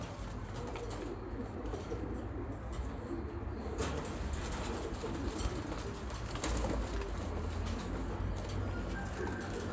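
Racing pigeons coo softly amid a busy outdoor background in Izmir, with faint bird calls scattered throughout and no talking.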